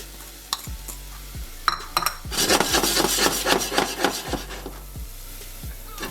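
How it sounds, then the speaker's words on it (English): Onions cooking in a pan for BBQ chicken kebabs, a scraping, rubbing stir that builds into a busy burst of strokes, close, over a low hum, with a few dull knocks and no voices. "I'm gonna cook these onions off until they're nice and clear or translucent"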